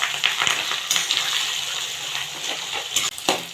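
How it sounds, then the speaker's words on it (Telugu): Curry leaves, chopped onions and green chillies fry in hot oil in a pan for instant poha upma, giving a close, continuous sizzle and crackle with a few stirring clinks. "ఇందులో కరివేపాకు వేసుకొని కొద్దిగా ఫ్రై చేద్దాం."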